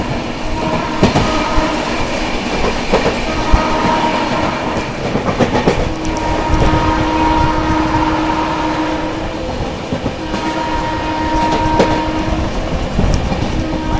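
An Indian passenger train runs at speed, keeping up a loud continuous rumble with rhythmic clickety-clack of wheels over rail joints, recorded from on board.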